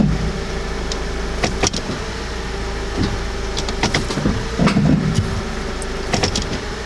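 A car in drive with a bad torque mount, its engine rumbling and the cabin rattling under a constant low vibration, with occasional ticks and knocks, heard from inside the vehicle.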